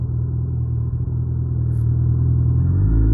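A motorcycle rides through a residential neighborhood on a winter day in Michigan. Its engine gives a steady, close low rumble that swells slightly toward the end, with no speech.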